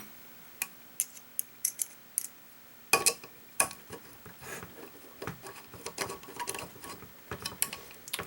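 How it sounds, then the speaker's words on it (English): Small screws being driven and fitted parts clicking into place while a wheelie bar goes onto a Traxxas 2WD RC car with an Integy gearbox, giving a series of sharp close ticks and clicks followed by denser rattling handling noise. "putting on the wheelie bar and securing the gearbox a little bit better with these larger screws"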